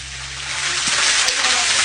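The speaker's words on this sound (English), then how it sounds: "Hear the water." Water pours from a bathtub faucet in a loud, steady hiss that holds without pause, close by and alone.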